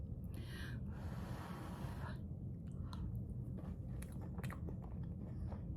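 Someone chews hot biscuits topped with chocolate gravy, soft wet chewing and mouth sounds close to the mic over a steady low background rumble, with a few sharper bites and breaths near the end.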